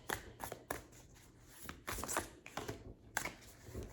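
Tarot cards are shuffled up close in quick, papery riffles and slaps, coming in bursts with short pauses between them.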